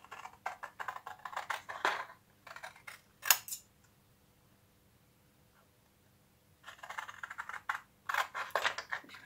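Scissors snipping through paper tags up close, quiet bursts of quick crisp cuts separated by a longer silent pause.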